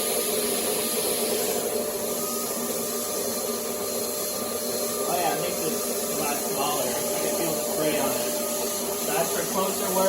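A Paint Zoom paint sprayer set for a wide, far-reaching spray hisses and whirs steadily and fairly loud throughout, with a constant motor drone and no talking.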